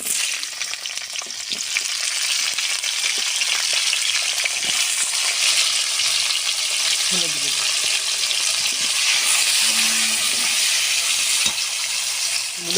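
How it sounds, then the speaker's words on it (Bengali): Flat beans sizzle loudly and steadily in hot oil, with occasional scrapes and clinks of stirring throughout. "সিমগুলো ভেজে নেব"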